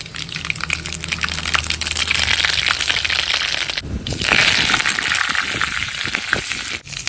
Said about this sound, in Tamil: கடுகு போட போகிறேன்